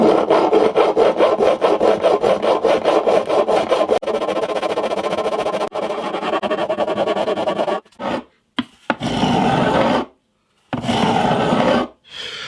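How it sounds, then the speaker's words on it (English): A metal file is drawn along the frets of a 50-year-old acoustic guitar at an angle, making loud, close, rhythmic rasping strokes that give way to a few shorter scrapes separated by pauses. "I'm just going to run it down the edge of the frets at an angle until I stop hearing the metal and hear it on wood"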